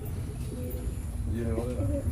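Pigeons from a pigeon seller's flock cooing in low, rolling repeated calls, close by, with talk running over them.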